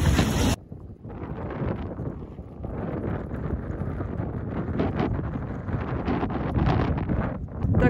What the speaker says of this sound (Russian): Так резко погода изменилась, такой ветер поднялся